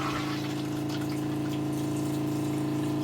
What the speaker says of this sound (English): So now I have city water and I have pump.